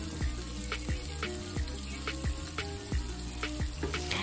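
Hilsa fish frying in small batches in an oil-filled pan, a soft steady sizzle with recurring light knocks and pops at a fairly regular rhythm, heard close and alone.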